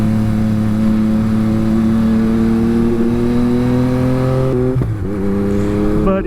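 A 2021 Yamaha MT-09 motorcycle engine drones steadily with rising pitch, then briefly dips and jumps as it shifts gear with a quick shifter, continuing loud and close with no talking.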